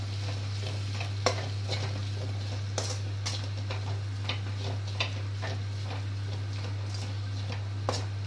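Cauliflower rice being stirred with vangi bath masala, chili powder and salt in a pan, with soft scraping and a sharp spoon tap every second or so over a faint sizzle and a steady low hum.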